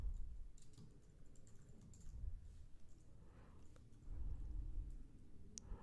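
Quiet typing on a computer keyboard while writing HTML, irregular bursts of soft key clicks with brief pauses, heard close and alone.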